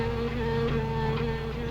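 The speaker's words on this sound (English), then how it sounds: "Wasps? You better be careful. They can sting a man to death." Wasps buzz steadily in a close, continuous drone with a sustained tonal hum and slight wavering pitch, no voices over it.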